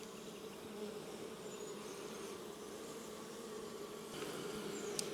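A steady, continuous buzz of many honey bees from a caught swarm in a trap, close and even, with no voices and a slight swell near the end.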